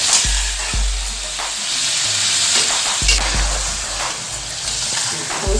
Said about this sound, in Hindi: इसमें हम गोश्त को फ्राई करेंगे लाइट सा।